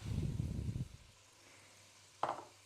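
Strips of sliced pepper dropped into a pot of potatoes and meat stewing in a little liquid, giving a loud wet sizzle and stir that dies away, then a short clatter near the end.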